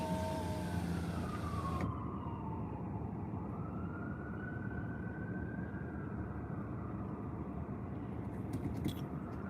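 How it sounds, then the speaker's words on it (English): Ambulance siren passing up Tillman Street outdoors, a loud wailing tone sweeping down then slowly rising again over rumbling traffic noise, fading somewhat toward the end, with no talk. "Was that the ambulance going up Tillman Street?"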